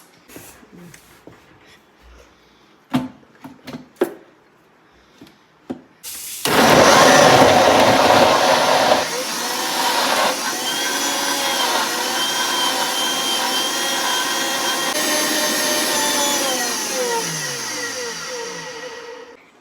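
An electric mixer blends raw green mango juice with sugar, starting after a few faint clicks and knocks, then a loud whirring motor hum that runs steadily, its pitch shifting slightly as it churns, until it winds down at the end.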